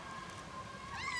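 A cat gives a single faint, rising meow near the end, at an outdoor seafood spot in Hellshire, Jamaica, over steady low background noise with no talking.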